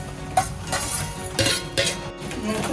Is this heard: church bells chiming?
no